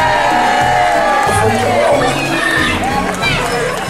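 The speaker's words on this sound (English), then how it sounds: "please give us a big round of applause for the mayor," A fair crowd in a town square cheers, whoops and applauds for the mayor, a loud, continuous wall of cheering and babble from many voices at once.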